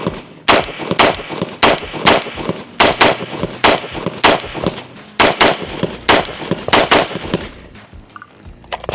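Rapid rifle gunfire through a B&T Print XH RBS 5.56 suppressor, roughly twenty loud, sharp reports in quick irregular bursts of two and three, each with a short crack and brief tail, fired close by.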